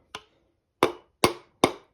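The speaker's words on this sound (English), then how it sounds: "then you just hammer it down" Four sharp, dry knocks, one then a pause and three more in quick succession, as a wooden hammer handle taps a piston into the engine block of a Dodge Magnum 318 5.2 during a rebuild.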